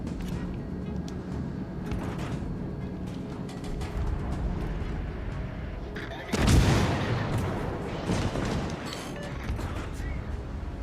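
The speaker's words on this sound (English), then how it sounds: "Somebody else shooting me over here" Enemy ship gunfire in World of Warships Legends, a steady rumbling barrage with one heavy impact crash midway, dense and continuous, with faint game noise throughout.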